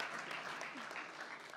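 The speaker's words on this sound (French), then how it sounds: "On peut applaudir Teresa, s'il vous plaît?" A youth gathering audience applauds Teresa, a brief burst of dense, fairly faint clapping with some voices underneath.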